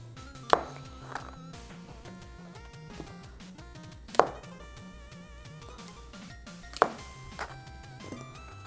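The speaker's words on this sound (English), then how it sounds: "almost done chopping mushrooms." A knife chops mushrooms on a cutting board in a home kitchen while beef bourguignon is being prepared, with sharp, spaced thunks at an uneven pace, close but fairly quiet, with no talking.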